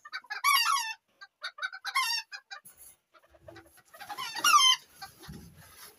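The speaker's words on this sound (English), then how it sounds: "let's go check in our awesome hen house if we got any eggs yet" Several bantam chickens cluck and squawk in bursts close by in a hen house, with brief pauses and some rustling between calls.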